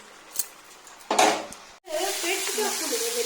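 Chicken dropped into hot oil in a pan over a full gas flame, a sudden sizzle followed by steady close frying and stirring, with a few clinks just before.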